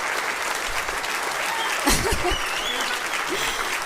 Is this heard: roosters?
no